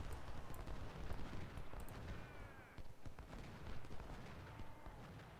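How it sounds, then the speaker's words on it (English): Distant booming artillery fire from a Civil War battle in the strategy game Ultimate General Civil War, a steady dense rumble of cannon shots and gunfire running throughout with no talk. "Man, that artillery is nasty."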